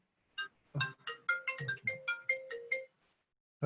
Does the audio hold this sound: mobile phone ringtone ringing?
yes